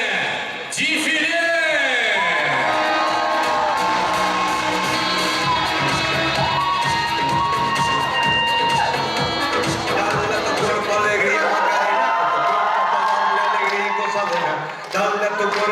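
A university pageant crowd at Miss and Mister BGU 2019 cheers and applauds the contestants before a dance parade, with loud, sustained shouting, whoops and clapping that fill the clip alongside voices and music.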